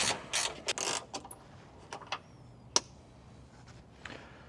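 A small mini wrench turns out the top headlight bolts on a 2025 Toyota 4Runner, with quiet ratcheting clicks clustered at the start and then a few isolated faint ticks and clacks.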